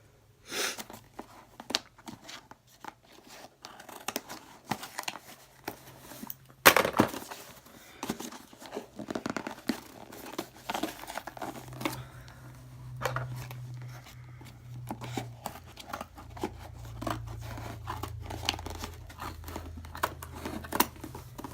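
Strong packing tape on a parcel being cut across, giving quiet scraping, crinkling and tearing sounds with one sharp snap partway through, close and soft with no talk.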